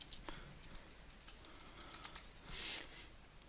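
Typing on a computer keyboard, a close run of quick, uneven key clicks with brief pauses and a denser burst near the end, with no voices.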